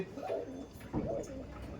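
A Giribaj pigeon coos in two soft, low, rolling phrases, close by against a faint background hum.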